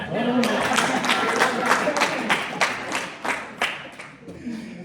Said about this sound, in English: to clap for yourself